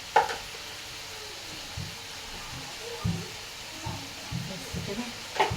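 Liver fries with garlic in a pan and is stirred, with a soft continuous sizzle broken by low scraping strokes at irregular intervals and occasional louder clinks near the start and end.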